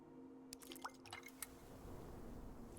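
Watering plants in the Cloud Gardens video game, a quick series of soft dripping and splashing game sounds with faint liquid squishes, quiet over a steady low background hum.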